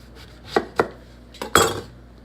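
A few sharp knife strikes on a cutting board cutting the top off an eggplant, two quick cuts, a pause, then two more, the last one loudest.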